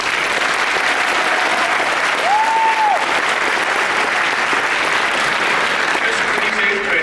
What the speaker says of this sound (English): So round of applause for our soloists.